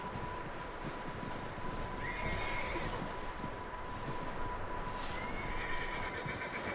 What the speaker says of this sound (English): I hear some horses.